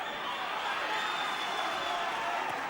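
Applause and crowd noise fill a boxing match at George Carnall Leisure Centre, Davyhulme, Manchester, a steady wash of clapping and murmur held at an even level throughout.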